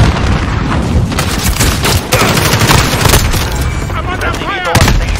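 Heavy gunfire from the video game Call of Duty Warzone, with loud, continuous rapid bursts and booming impacts close by, plus scattered game voices underneath.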